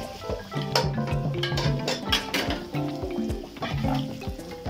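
Food sizzles steadily in a hot pan, with scraping and stirring strokes of a utensil repeating throughout.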